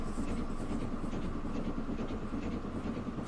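An LSWR steam train running in the Transport Fever 2 video game, a steady, moderately quiet rolling rumble with faint rhythmic wheel beats and no pauses.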